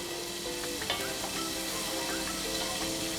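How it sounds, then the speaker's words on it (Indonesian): Spices with chili, salt and sugar sizzle and fry in a pan while being stirred for Indonesian ayam rica rica, a continuous close crackle with scraping stir sounds throughout. "Kita aduk sampai dia bumbu itu matang"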